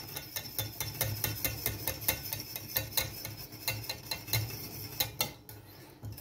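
A whisk or spoon stirs béarnaise sauce gently with butter in a pan, giving soft, rhythmic scraping and clinking strokes at a steady pace, fairly quiet and close.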